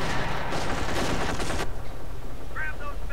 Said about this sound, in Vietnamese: Đây có súng máy bắn áp chế rồi anh em khỏi lo.